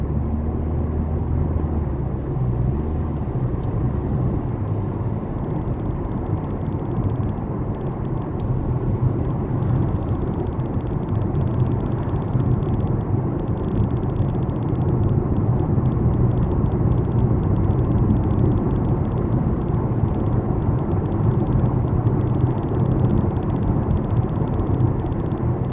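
Steady low engine rumble and road noise from a car driving along a narrow road, continuous and fairly loud throughout with a slight build in intensity toward the end.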